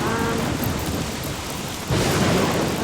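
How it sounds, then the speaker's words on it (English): Thunderstorm in Don't Starve Shipwrecked during hurricane season: dense, loud rain hiss throughout, then a sudden heavy lightning crack and rumble near the end, no talk. "Struck by lightning."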